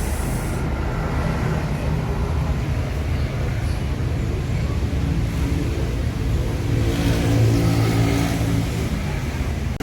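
A new Putra Remaja SR3 Panorama bus pulls in at a roadside bus stop, its engine a steady loud low rumble throughout with a slight swell near the end.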